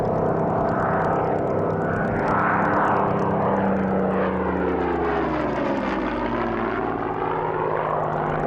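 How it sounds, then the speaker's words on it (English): A Hawker Hurricane's Merlin engine roars overhead at the Duxford airshow. The loud, continuous propeller drone swells and shifts in pitch as the fighter passes, with no voices. "Another Merlin engine roars through the Duxford skies. This time it belongs to the Hurricane"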